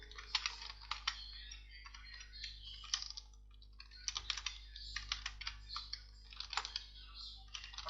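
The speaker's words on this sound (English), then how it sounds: "we just have to type the name" Typing on a computer keyboard, bursts of quick, light key clicks in irregular clusters with short pauses between them, close and quiet, without speech.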